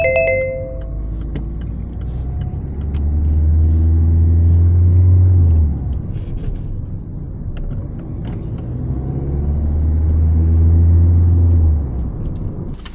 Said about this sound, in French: Démarrez vite le moteur.